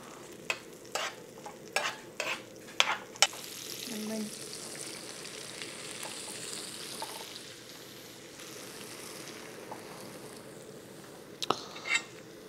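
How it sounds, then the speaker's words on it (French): Haddock fillets pan-fry in butter for a meunière, making a steady soft frying hiss, with several sharp utensil clicks and taps early on and another near the end. "on vient faire poêler notre poisson dans le beurre"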